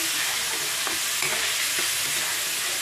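Mixed vegetables being stirred in a frying pan for ginisang gulay, a continuous bright sizzle with a few soft scraping stirs, close and steady.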